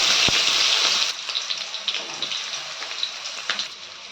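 Onions fry in hot oil with popped mustard seeds in a pan, giving a loud, close, hissing sizzle that eases into a steady crackle with scattered small pops.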